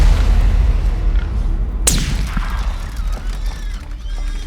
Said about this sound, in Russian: Я выстрелил, кабан побежал в лес.